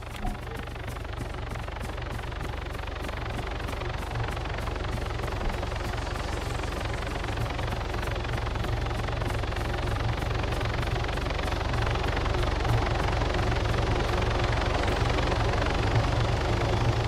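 A battered helicopter in the Arma 3 video game drones with a steady low rotor thump and engine roar, loud and unbroken throughout.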